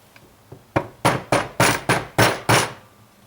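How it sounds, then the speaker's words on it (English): Seven sharp, evenly spaced blows of a rubber mallet striking a metal coin-doming tool, each with a quick decay, loud and close with no talking. "your rubber mallet"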